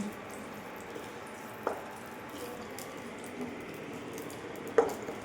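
Carrot halwa with raisins is stirred in a pan, a faint soft scraping and gentle sizzle broken by a couple of sharper clinks of the spoon.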